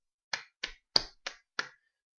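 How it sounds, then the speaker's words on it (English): Five sharp hand claps ring out alone at an even, quick pace, each a crisp close slap with a short decay and nothing else between them. "I'm clapping right now as well"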